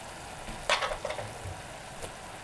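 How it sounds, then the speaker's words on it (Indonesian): Hoisin sauce, a fermented soybean sauce, hits a hot frying pan while mapo tofu is cooked at home, giving a short burst of sizzling and stirring that fades back into a low hiss, with no voices. "Ini hoisin sausnya saya masukkan 2 sendok makan."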